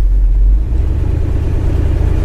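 Classic Chevrolet Silverado pickup engine cruising, a steady low rumble that holds a close, even drone with slight throttle swells throughout.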